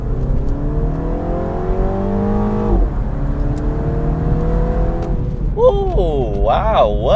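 A Mini Cooper S F56 pulls hard in first gear at near-full throttle, its engine note climbing loud and close, dipping sharply twice as it shifts, then rising again.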